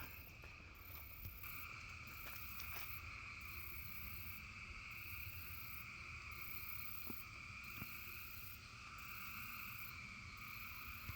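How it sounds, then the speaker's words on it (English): Quiet night ambience of chirping crickets in a regular pulsing rhythm, with frogs croaking faintly in the distance. "Nothing but frogs and crickets."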